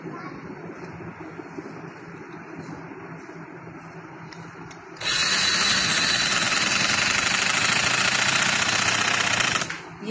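A sewing machine stitches fabric corners for a kameez hem, with a quieter stretch of handling and low talk before the motor kicks in loudly and runs steadily for about five seconds, then stops.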